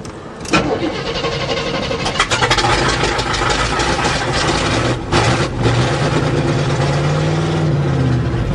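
The 400 engine in a GMC truck starts after a starter motor change and keeps running loud and close, with a rough, steady idle.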